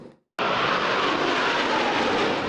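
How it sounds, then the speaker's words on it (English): Blue Angels jet airplanes at an air show roar loudly and steadily after a brief quiet, a sustained close engine rush that fills the whole moment with no voices. "the sound of success is a jet engine"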